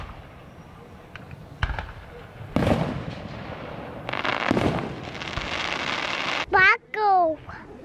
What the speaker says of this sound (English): the fireworks are big, huh?